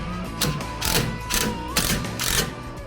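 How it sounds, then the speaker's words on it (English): A ratchet clicks while a sway bar link is reinstalled on a Chevy Colorado ZR2 during a leveling kit install, a few short bursts of mechanical clicking close by. "Now go ahead and reinstall your sway bar link."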